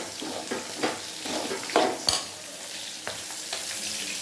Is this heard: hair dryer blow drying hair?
no